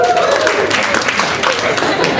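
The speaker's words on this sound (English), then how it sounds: "You'd never clap at something like that in a comedy show" Audience applause at a stand-up comedy show at Carolines, a short burst of dense clapping from a crowd, loud and close, sustained for a couple of seconds.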